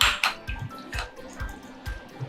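Hot water poured off tofu while preparing Chinese hot and sour noodle soup, heard as a series of wet drips and splashes landing at a steady, roughly half-second rhythm, close and moderately loud with no talk.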